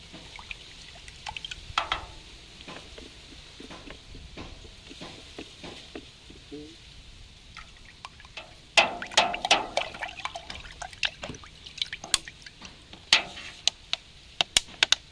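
Dish soap pouring and splashing into water, about two tablespoons, with soft trickles and clinks that grow louder midway, close by and without talk.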